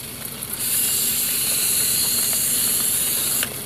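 Betel leaf solution is sprayed directly onto quail as a steady, close, airy hiss that starts after a brief pause and runs for about three seconds before cutting off.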